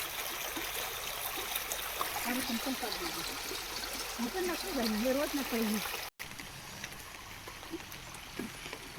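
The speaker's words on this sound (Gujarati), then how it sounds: "આ મારા ગામનું નાનું એવું ઝરણું છે" Small village stream near farm fields running with a continuous soft trickle and wash of water, fairly faint, with a brief break partway through.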